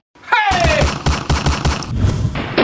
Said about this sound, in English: What is that? It be like gunshots.